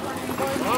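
Harness horses walking on a racing track at an open pacing event: quick clip-clop hoofbeats under a voice, heard for under a second.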